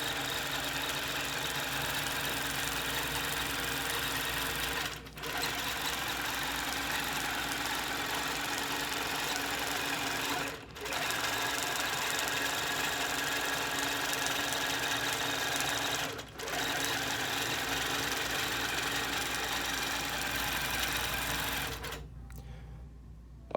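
A longarm quilting machine stitching steadily, a continuous fast mechanical hum and rattle held at an even level, pausing briefly about every five seconds, close and alone before it stops.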